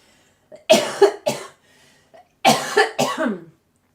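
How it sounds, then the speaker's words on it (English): Four harsh coughs in two quick pairs, close and loud, with short silences between. "Cough, cough, cough."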